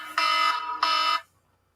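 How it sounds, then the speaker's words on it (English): Two long, loud electronic alarm blasts ring out back to back, each steady and harmonic-rich, with a short gap between them before silence. "that's my alarm going off there."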